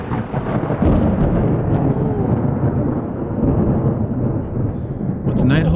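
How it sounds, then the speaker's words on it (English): Thunder rolling through a mountain thunderstorm at a lake campsite, a loud, sustained deep rumble that swells and lingers for several seconds, with faint voices just at the end. "With the night holding some pretty massive thunderstorms"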